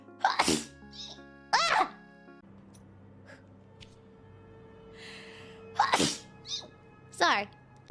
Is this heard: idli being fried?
no